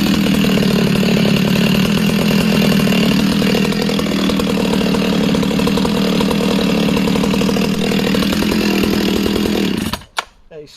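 A Partner 650 chainsaw runs loud and close at high revs while cutting wood, with its engine note dipping briefly under load, then it cuts off abruptly near the end, leaving a few faint knocks.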